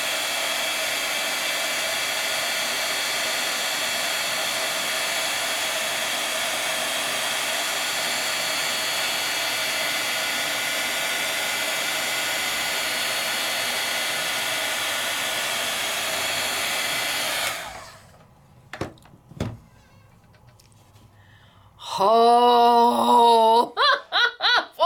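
A heat tool blows steadily for about seventeen seconds, a loud, even whooshing hum while melting embossing ink on paper, then cuts off, followed by a few clicks and an excited, squealing voice.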